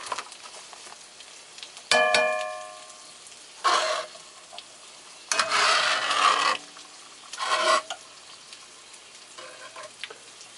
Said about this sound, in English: Get the eggs in there. Listen to that, listen to that.